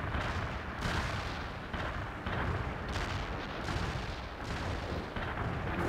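Heavy artillery barrage in the strategy game World in Conflict, a dense, continuous roar of overlapping booms and blasts that holds steady and loud throughout, with no voices.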